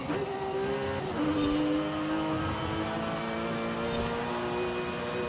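Japanese car driving in Forza Horizon 5, a continuous engine drone that steps up in pitch through the gears, fairly loud and steady throughout, with no talk over it.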